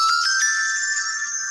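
A phone ringtone plays loudly and steadily as a bright, sustained electronic tone with a few quick pulses at the start, with no talking over it.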